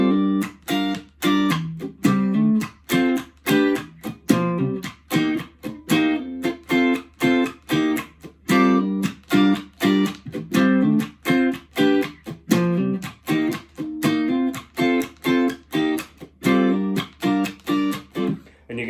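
Electric guitar playing major triads with hammer-ons in a tight, choppy funk rhythm of short, evenly spaced chord stabs, close and alone for the whole stretch.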